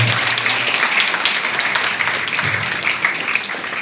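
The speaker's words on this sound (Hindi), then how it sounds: "मैं चाहूंगा आप जोरदार तालियों से स्वागत करें" Audience applause welcoming a poet to the stage at a poetry conference at an engineering college in Roorkee, a steady, loud wash of many hands clapping that fills the whole stretch without letting up.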